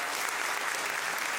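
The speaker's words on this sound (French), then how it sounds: "Est-ce qu'on peut applaudir nos 3 artistes" A live audience claps together for three artists, a brief burst of steady, dense applause filling the room.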